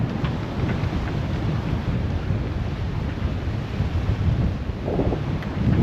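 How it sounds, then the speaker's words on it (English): Strong wind blasts across a boat at sea in the Caribbean amid big ocean swells, a dense, continuous roar of gusts and surging water, loud and close with no pauses. "Windy, big swells"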